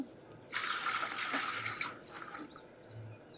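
About a litre of lemon juice is poured into a pot, making a faint, steady liquid splash that starts abruptly and runs for roughly a second and a half before trailing off into quiet.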